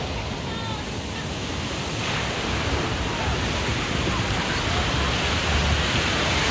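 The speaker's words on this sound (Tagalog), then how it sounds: "tignan nyo yung hampas ng alon, sobrang lakas" Strong ocean surf pounds a La Union beach closed to swimmers, a dense, continuous roar of breaking waves with wind noise on the microphone, steady and loud throughout with no clear talk.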